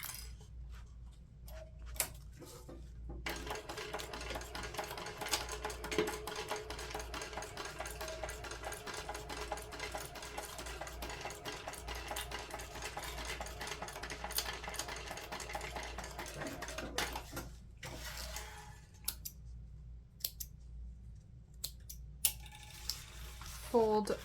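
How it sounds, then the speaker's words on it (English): A sewing machine stitching a half-inch seam on a messenger bag, a fast steady mechanical whirring run lasting most of the stretch, close by, with brief pauses and handling noises before and after. "sew together at a 1/2 inch seam allowance"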